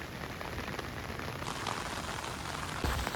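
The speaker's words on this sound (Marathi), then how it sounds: "पावसाची सकाळपासून ठोक आहे" Steady rain falls on the ground after a morning-long downpour, a soft, even patter of drops with no voices.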